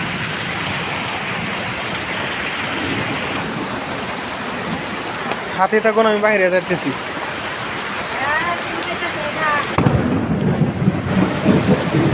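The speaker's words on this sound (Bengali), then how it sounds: "প্রচন্ড শিলাবৃষ্টি এবং ঠাড়া।" A heavy hailstorm with thunder makes a dense, loud, steady roar of pounding ice and rain that runs the whole time, swelling toward the end, while someone talks over it partway through.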